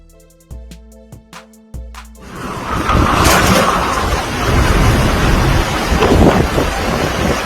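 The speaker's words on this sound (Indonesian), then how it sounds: "Badai dahsyat dengan kekuatan angin mencapai 100 km per jam ini akan banyak melanda wilayah di negara itu." A strong nighttime windstorm in Andorra, with gusts near 100 km/h, roars as a loud, continuous rush that buffets the microphone. It begins after a few seconds of sharp clicks and knocks and keeps building steadily.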